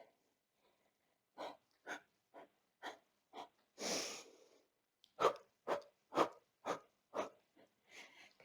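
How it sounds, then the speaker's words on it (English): Short, sharp breathy exhales come with each seated side-to-side twist of a cardio workout, about a dozen close, rhythmic puffs with one longer, hissing breath partway through. "You can think about those little exhales with each twist"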